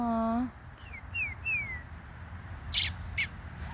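A fluffy baby robin in upper Michigan gives a few thin, high chirps outdoors, preceded by a short whistled tone and followed by brief sharper calls.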